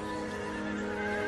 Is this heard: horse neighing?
yes